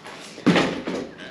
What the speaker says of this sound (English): Better close that door.